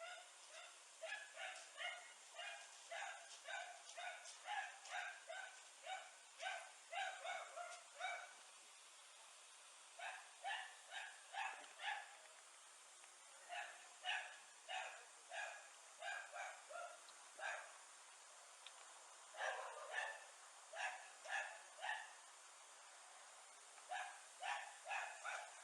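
A dog barks in repeated bursts of sharp yips and barks, with short pauses between volleys, playing back fairly faint and steady throughout.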